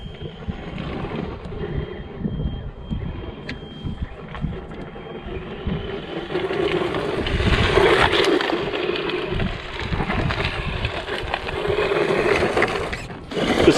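A 1:10 scale electric 4WD all-terrain RC car runs at full throttle, a steady whining motor buzz mixed with wind rush over the microphone, swelling louder midway and holding close and continuous with no talk.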